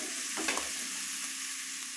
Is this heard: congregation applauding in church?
no